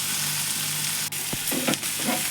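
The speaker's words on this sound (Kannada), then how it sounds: "ಇದಕ್ಕೆ ಬೆಳ್ಳುಳ್ಳಿ ಹಾಕಿದ್ದೀನಿ, 2 ಹಸಿಮೆಣಸಿನ್ಕಾಯಿ, ಈ ಥರ ಚೆನ್ನಾಗಿ ಮಿಕ್ಸ್ ಮಾಡ್ಕೋರಿ" Garlic and two green chillies fry in a hot pan, giving a constant bright sizzle, with a few clattering stirs of a spoon toward the end.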